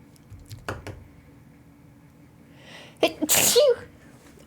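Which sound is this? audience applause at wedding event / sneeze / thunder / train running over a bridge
sneeze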